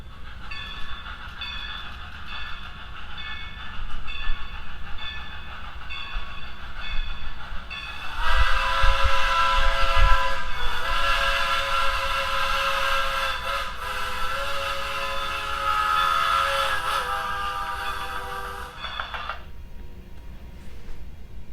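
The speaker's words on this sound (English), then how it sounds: "There's no train here, but you can hear it coming." An HO scale model railroad crossing plays an approaching-train sound effect, rumbling and growing louder, its whistle sounding in a long sustained blast before fading off.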